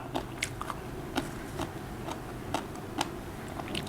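Close, crisp crunching bites into crispy fish-sauce fried pork belly, a series of sharp cracks spaced irregularly over quiet chewing, with no talking.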